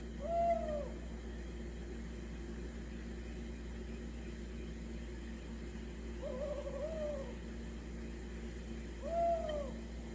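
An owl hoots three times, spaced apart and fairly faint, over a steady low hum and soft background hiss, at night at Songgwangsa temple.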